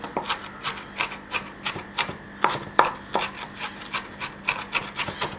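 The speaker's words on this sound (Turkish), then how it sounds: "karabiberle tuzdan tekrar doğruyorum. inceltiyorum yani daha doğrusu." Onions being chopped finely again on a board after black pepper and salt are added, a steady run of about twenty sharp, close knife strikes at a quick, even rhythm with no talking.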